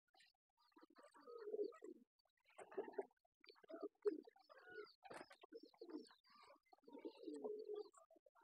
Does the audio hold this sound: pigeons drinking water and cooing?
yes